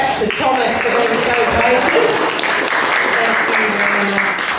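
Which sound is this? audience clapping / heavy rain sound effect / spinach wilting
audience clapping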